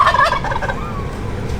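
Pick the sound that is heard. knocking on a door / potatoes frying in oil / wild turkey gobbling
wild turkey gobbling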